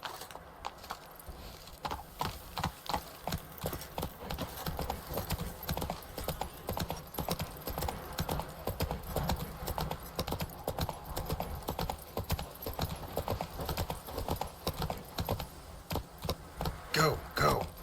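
Roach, a horse in The Witcher 3 video game, gallops with steady, rhythmic hoofbeats that continue throughout, fairly close and even in loudness, with faint game ambience beneath.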